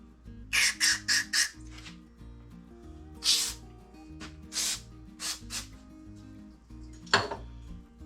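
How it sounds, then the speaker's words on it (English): Several short hissing bursts of carburetor cleaner sprayed into a Stihl FS90 brush cutter carburetor, four in quick succession then a few more spaced out, over a steady low musical hum in the background. "So we're going to spray some carb clean in here."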